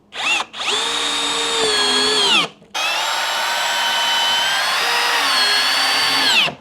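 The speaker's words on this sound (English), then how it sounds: "So I'm gonna tack it in this time with screws." A power drill drives screws into porch ceiling boards in two long, loud whirring bursts. The motor pitch rises and dips, with a short pause between bursts and no talking.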